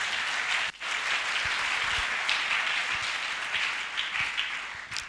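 A church congregation claps and applauds together in a dense, continuous wash that dips for a moment, then carries on strongly before tapering off near the end.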